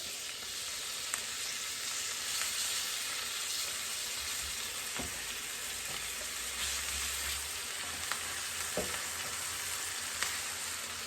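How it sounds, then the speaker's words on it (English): Bacon frying in a pan over a fire for a keto bacon and egg sandwich, a dense, continuous crackling sizzle with occasional sharp pops, close up and steady, no voices. "So while that bacon's cooking,"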